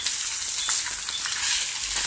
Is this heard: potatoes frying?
yes